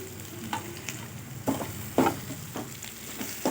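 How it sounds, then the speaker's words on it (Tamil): Garlic and onions sautéing in a pan for a potato kootu, a low steady sizzle with several short scraping stirs at irregular intervals, close by and without speech. "பூண்டு வெங்காயமும் நல்லா வதங்கி வரட்டும்"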